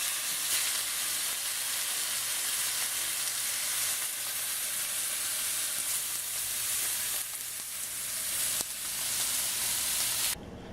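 Sous vide steaks searing in a hot pan, a loud, continuous close sizzle and crackle of fat that runs steadily with slight surges and drops out abruptly at the end.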